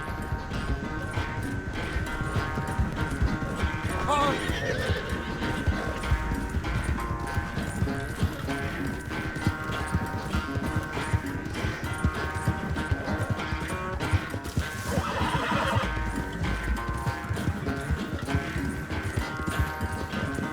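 Horse hooves clip-clopping at a steady gallop in Red Dead Redemption 2, continuous and moderately close over a wash of ambient noise, with a faint whinny partway through.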